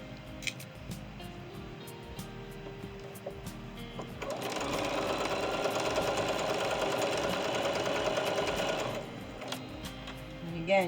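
A sewing machine stitches quilt medallions, a fast whirring run of several seconds between quiet handling clicks, close and moderately loud.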